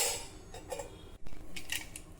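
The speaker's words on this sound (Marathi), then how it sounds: "यावर झाकण ठेवूया।" A lid goes onto a pot of lentils sitting inside a pressure cooker. It makes a short metallic clatter and a few light taps, close by, quiet, with no voices.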